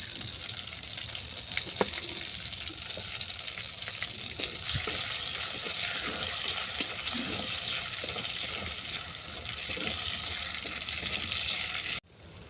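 Panch phoron spices crackle and sizzle in hot oil with bay leaf and dried red chilli, a steady loud frying hiss throughout with occasional pops and stirring, no voices.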